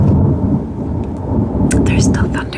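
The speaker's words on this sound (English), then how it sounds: "There's still thunder there, though, so I hope you enjoy thunder sounds" Thunder rolls loud and deep as a storm passes, a sustained low rumble with rain and water dripping off a roof, plus a few brief higher bursts near the end.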